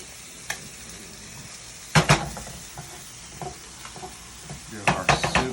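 Soup in a pot being stirred, with scraping utensil strokes in a few loud bursts over a soft steady background, no talking.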